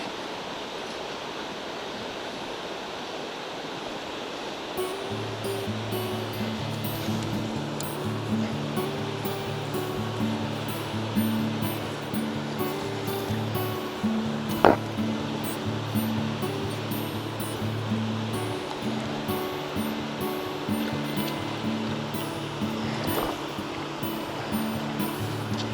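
Flowing water of a spring-fed river at a tenkara fly-fishing spot, a steady broadband rush that continues throughout, with a low rhythmic hum and faint clicks over it from about five seconds on.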